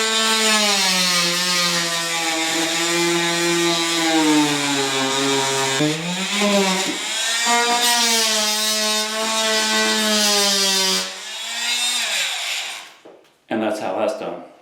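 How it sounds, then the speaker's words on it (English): A Dremel rotary tool cuts through material during a house-flipping renovation, giving a high, buzzy whine that wavers slightly, dips briefly, then cuts out near the end before a short burst of noise. "Or you can get the handy Dremel tool"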